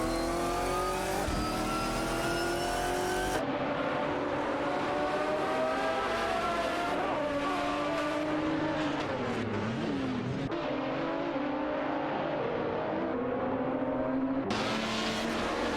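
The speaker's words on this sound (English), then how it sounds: "Griningeb is holding off Nukembokum in their Chevrolet Corvette C5R" Race car engines from an AI-driven racing video game, Chevrolet Corvette C5R and Porsche Carrera GTR among the field, roar steadily throughout, rising and falling in pitch as cars accelerate and pass, with no voices.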